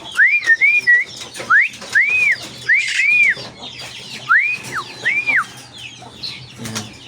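Birds on a farm keeping Dong Tao chickens in Tarlac City, with several clear, arching whistled calls repeating in short bursts over the first five seconds, close and fairly loud, amid faint farmyard background.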